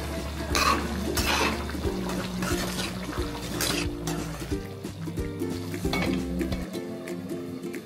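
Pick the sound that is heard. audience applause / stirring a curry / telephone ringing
stirring a curry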